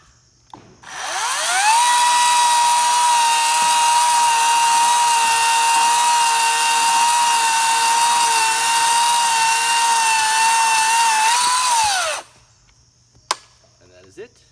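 A Greenworks Pro 60V cordless chainsaw with an 18-inch bar revs up and cuts through dry wood, a loud steady whine lasting about eleven seconds, then winds down and stops, followed by faint handling noises.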